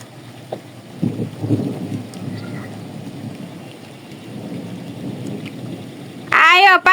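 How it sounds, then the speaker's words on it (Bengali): Steady rain pours outdoors while low thunder rumbles through it, with a brief loud voice-like sound cutting in near the end. "বৃষ্টি হইতাছে।"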